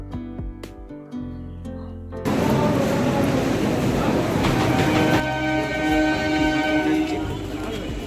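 After a brief musical passage, a train on the Sealdah line roars in loudly and keeps rumbling along with steady, heavy clatter.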